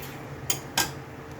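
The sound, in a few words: pot of cooked rice being covered with a lid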